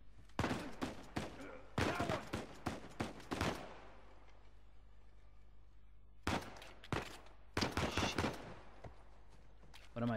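Bursts of rapid gunfire in the video game Uncharted 4, loud volleys in clusters separated by a brief lull, with some talk mixed in.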